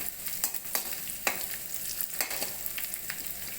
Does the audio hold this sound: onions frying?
yes